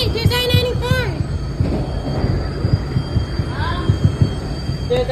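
Washington Metro train riding toward Springfield, with a steady heavy rumble of wheels on track, rhythmic clunks and rising, squealing whistles of wheels and brakes throughout.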